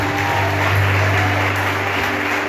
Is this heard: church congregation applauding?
yes